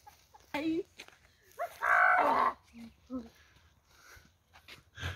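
Cattle on a misty farm low and moo nearby, with a long loud moo in the middle and shorter calls around it, alongside faint other farm sounds.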